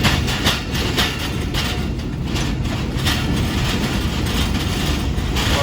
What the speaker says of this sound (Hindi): प्लेटफॉर्म नंबर 1 पर आ रही है ट्रेन।